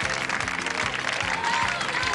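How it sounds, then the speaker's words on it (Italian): Audience clapping in a television studio after a magic act, a dense, steady applause filling the whole moment with a rhythmic music beat underneath. "Un grosso applauso a Massimiliano che è stato straordinario."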